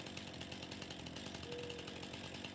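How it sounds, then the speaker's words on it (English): Chainsaw in the PC game Farming Simulator 2019, a continuous loud buzzing drone with a rapid rattling texture, steady and close throughout with no break. "I've never used a chainsaw in this game."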